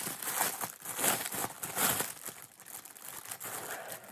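A crinkly plastic package holding zips is pulled open, giving loud close crackling and rustling bursts in uneven clusters, with no talking.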